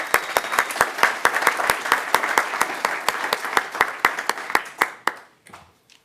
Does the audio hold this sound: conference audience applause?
yes